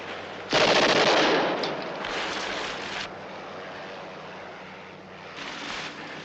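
Automatic weapon fire from a 1964 war film, a loud sustained burst starting after a brief pause, then tapering into rougher, quieter bursts and a final short flurry over a low rumbling background.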